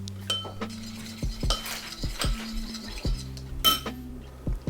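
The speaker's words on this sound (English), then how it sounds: "To finish the sauce, I add soy sauce, olive oil, and then mix it all together." Spoon or utensil clinking and scraping against a bowl while soy sauce and olive oil are stirred into a sauce, a series of sharp taps and rattles at close range with quiet pauses between.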